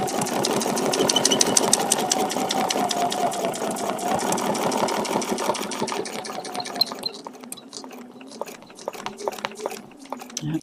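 A sewing machine stitches a feather leaf vein along a template in quilting work, running as a rapid, close mechanical chatter that is steady for about seven seconds, then slows into sparser, separate stitch clicks.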